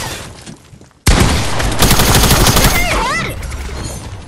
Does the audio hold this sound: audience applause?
no